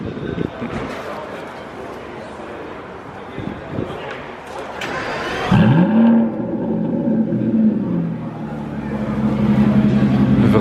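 A Pagani hypercar engine cranks and fires up with a loud, deep roar near the middle, then settles into a rumbling idle that swells again, with talking over the engine before and during the start.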